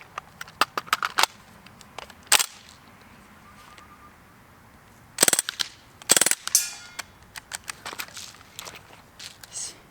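Sharp pops from an AR15-style BB gun fired at a bowl, a spaced series of close, loud shots with brief bursts and quiet gaps between them, plus faint handling noises.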